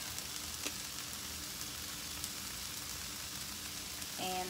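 Tofu scramble with salt and pepper sizzles steadily in a frying pan, a constant crackling hiss throughout with occasional soft scrapes of stirring and a faint clink near the end.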